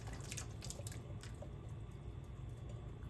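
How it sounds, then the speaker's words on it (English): Wet, squishy pouring of canned white beans with their juice into a pot, with drips and sloshing, fairly quiet and close. "I'm going to pour them right in."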